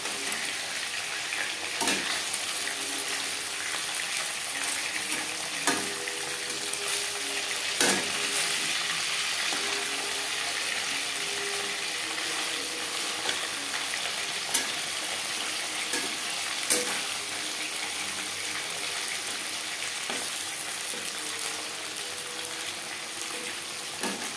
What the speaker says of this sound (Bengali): পরের মাছ ও মাথা একইভাবে ভেজে নেব।